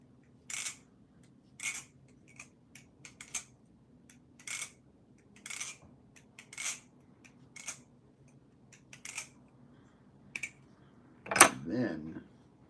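A balisong knife with aluminum and zinc alloy handles is flipped, giving sharp metallic clanks and clicks in short bursts spaced about a second apart, fairly faint, finished by a louder rattling clack.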